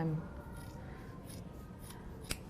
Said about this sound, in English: Sharp fabric scissors are delightful.